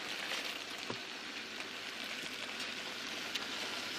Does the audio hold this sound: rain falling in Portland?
yes